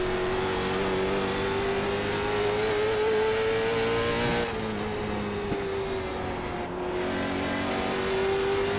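The engine of a late model stock car in the iRacing game roars steadily close by, its pitch slowly climbing, briefly dropping as it lifts off, then building again.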